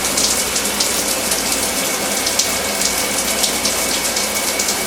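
A Delta In2ition dual head shower runs at full flow, a loud, steady hiss of spraying water with faint rhythmic spatter close by.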